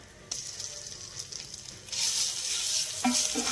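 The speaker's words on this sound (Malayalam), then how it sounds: "നമുക്ക് ഈ എണ്ണയിൽ തന്നെ ഇഞ്ചിയും വെളുത്തുള്ളിയും കൂടി ഒന്നിട്ട് എടുക്കാം" Ginger and garlic dropping into hot oil in a pan, a soft sizzle that swells louder partway through, with a few light clicks near the end.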